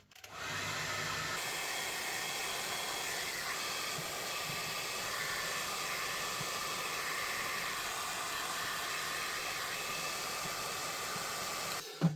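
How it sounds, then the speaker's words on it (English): A hairdryer blows hot air onto the silicone-glued tailgate lamp of a Volvo V90, a steady close whooshing roar that switches on at the start and runs unbroken until it clicks off at the end. "So I'll switch to a hairdryer,"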